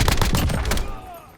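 Rapid automatic gunfire in the shooter game Warzone bursts loudly and close for under a second, then fades into a short ringing tail.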